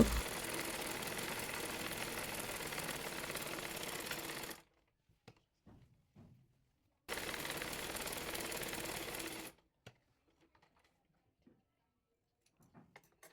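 A sewing machine stitches salwar fabric in two steady bursts of rapid mechanical whirring, each about two to four seconds long, separated by quiet pauses filled with small clicks and fabric handling.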